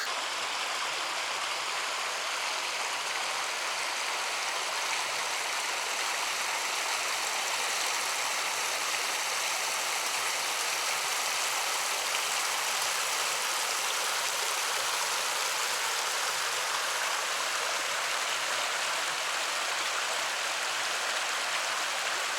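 Cedar Creek flows along the Ozark Highlands Trail with a continuous, even rush of water. It is full and fairly loud throughout and heard alone.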